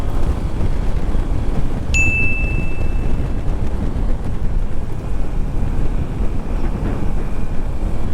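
Steady wind buffets the microphone on a motorcycle ride, a loud low rumbling roar with no voices, continuing throughout.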